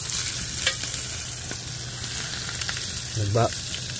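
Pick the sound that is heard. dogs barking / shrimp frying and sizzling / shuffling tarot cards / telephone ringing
shrimp frying and sizzling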